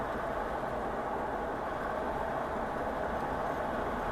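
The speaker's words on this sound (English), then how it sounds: "I'll lower one of the windows now just to see what it's like with a bit of wind noise" Steady broadband wind roar fills the cabin of a moving car with one window lowered, a constant rushing hiss mixed with low road rumble and no speech.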